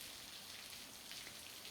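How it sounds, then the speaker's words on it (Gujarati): Heavy rain pours down in Mendarda, Junagadh, a soft, even hiss of falling drops heard faintly and steadily for the whole moment. "ધોધમાર વરસાદ ખાબક્યો છે"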